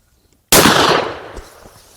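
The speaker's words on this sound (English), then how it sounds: "ready to shoot again." A single sharp, loud gunshot from a Grizzly .45 Long Colt round fired in a Rossi Brawler pistol, a sudden blast with a decaying echo tail over about a second.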